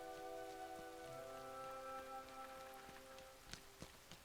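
Rain falls steadily in a PS3 game, a soft continuous patter under sustained tonal music, with a few sharper drops or taps near the end and no speech.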